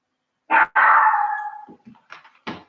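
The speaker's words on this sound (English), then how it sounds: "I'm sure you can hear my dog barking out there." A dog barks outside in a short burst: one sharp bark, then a drawn-out howling yelp, followed by a few softer yips, all fairly loud and clear with no talking.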